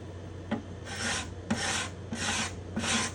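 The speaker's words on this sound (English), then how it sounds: "let me go to the third scraper and see what that feels like" A cabinet scraper shaves a spruce guitar top near its bindings and purflings, making four short, close, hissing strokes at regular intervals, each starting with a light tap.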